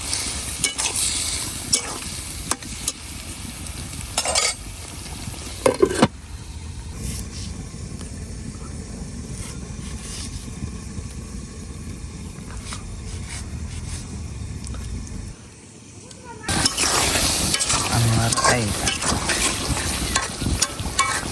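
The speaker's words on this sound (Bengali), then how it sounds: "এখন মাছটার একটু ভালো করে কষাই নি আমাকে দিয়ে দিতেছি অল্প একটু জিরা বাটা" Pangas fish stir-fried with cumin paste in a pan, a continuous close sizzle with scraping stirring strokes, a brief dip near the end before the frying noise swells again, no talking.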